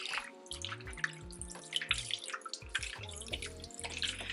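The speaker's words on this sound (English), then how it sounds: "I'm gonna pour some of this white vinegar into this water mixture with the chicken." White vinegar pours into a water mixture holding raw chicken, a soft trickle with splashes and drips that keeps going near and faint, with no talk.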